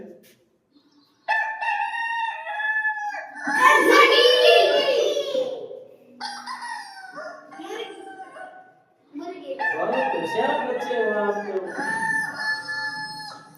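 A rooster crows loudly, followed by more crowing and clucking from hens, with a brief spoken voice near the start.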